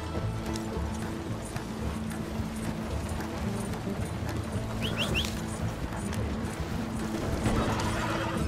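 Horses in Red Dead Redemption 2 gallop with a steady, continuous clip-clop of hooves, joined by a brief whinny partway through, all at a fairly even level with no talk over it.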